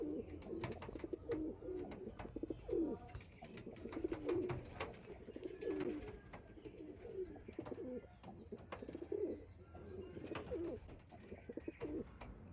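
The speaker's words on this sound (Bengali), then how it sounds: "আন্ধ্রার পিলাঙ্কা পায়রার কোয়ালিটি দেখে নিন" Andhra Pilanka pigeons coo in a loft, repeated throaty rolling coos in a steady rhythm nearby, with faint wing and shuffling noises and no talking.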